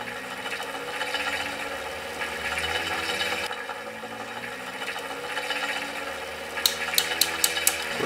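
An old Flymo electric motor coupled to a bike spins with a steady mechanical whir and hum, followed near the end by a short run of sharp rhythmic clicks.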